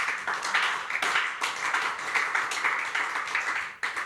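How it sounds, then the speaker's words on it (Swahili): Church congregation clapping for Jesus during a Sunday service: steady, dense applause from a crowd that keeps going for several seconds without a break. "Pigia Yesu makofi."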